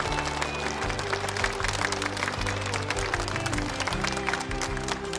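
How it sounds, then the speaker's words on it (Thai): An audience claps to welcome two university debate teams, a steady mass of applause running throughout under a low, sustained musical backing. "ช่วยปรบมือต้อนรับทั้ง2ทีมอย่างอบอุ่นด้วยค่ะ"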